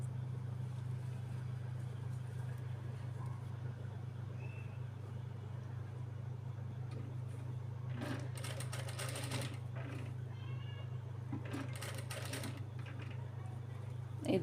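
Sewing machine stitching a child's lehenga blouse, running in a steady continuous hum throughout, with brief bursts of faster stitching toward the end.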